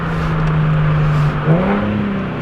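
An Infiniti G37 sedan with a re-tuned engine revs hard toward redline, a loud, steady, droning engine note that holds and then rises again near the end, close to the microphone with no talking.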